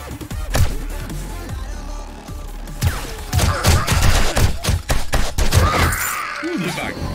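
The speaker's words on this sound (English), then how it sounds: "Kind of goes fitting with what I'm doing right now, shooting zombies." Rapid gunfire while shooting zombies in the survival game 7 Days to Die, sharp repeated shots in uneven bursts mixed with zombie groans and thuds, loud and close, with game sounds layered throughout.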